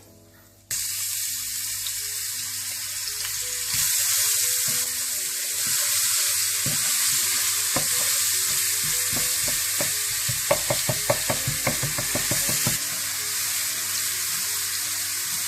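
Steady sizzling from garlic frying in a hot pan for pakora curry, with rapid crackling and a few stirring clatters, loud and close, no talking.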